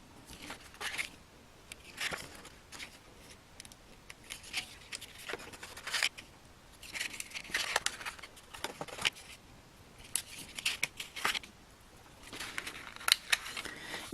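A craft blade slices through paper while making a pop-up book, giving a run of short, close, crisp scratchy cuts and scrapes in irregular bursts with brief pauses, some strokes going over the same spot again.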